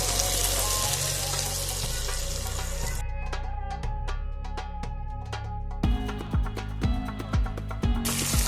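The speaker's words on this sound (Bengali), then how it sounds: "মাংসটা ভালোভাবেই কষা হয়েছে, এখনো কষবো বেশ খানিকক্ষণ।" Quail meat sautéing in a pan with meat masala and spices, a steady loud sizzle throughout with a metal spoon scraping and clinking against the pan in the later part.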